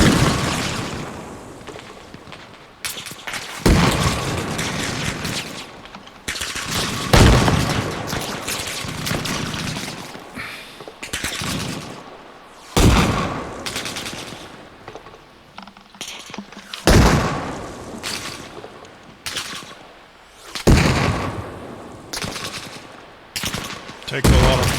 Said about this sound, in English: Heavy machine gun on the right.